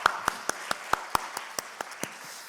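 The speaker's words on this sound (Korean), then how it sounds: "우리 한번 큰 박수 주님께 올려드리겠습니다" Scattered hand claps ring out in a church service as the congregation applauds God, about a dozen sharp, separate claps spaced evenly, close and fairly faint, with no cheering or talk.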